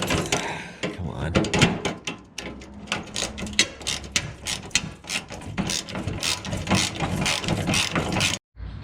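Ratchet wrench working fender bolts loose on a Foxbody Mustang, close and loud with quick clicking runs and pauses throughout, a person talking briefly at times.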